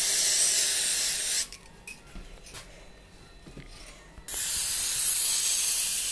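An artificial snow spray can gives a loud, close hissing burst of about a second and a half. After a quiet pause with faint handling noises, a second sustained hiss follows.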